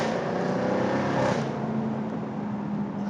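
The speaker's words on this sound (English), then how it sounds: "I just can't get enough of the sound in this car" A 575 hp Jaguar F-Type R Roadster's engine drones steadily while driving, a loud, close, continuous hum that eases slightly partway through.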